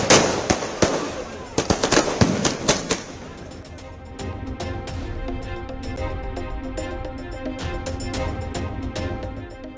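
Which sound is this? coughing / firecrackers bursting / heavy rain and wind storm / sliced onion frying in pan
firecrackers bursting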